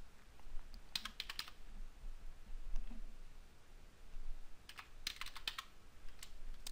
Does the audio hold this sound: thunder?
no